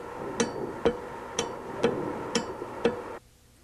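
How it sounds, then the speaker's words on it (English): A VE diesel injection pump's fuel shutoff solenoid clicks on and off six times in a steady rhythm, each sharp metallic click close and distinct, ending in quiet. "be sure the solenoid operates to admit fuel"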